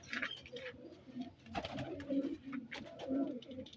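A Shaheen flying pigeon coos in soft, repeated low phrases close by, several coos rolling one after another with almost no other sound.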